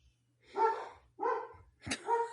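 Several dogs bark in three distinct bursts, fairly close and loud, with no talk over them and a faint low hum beneath.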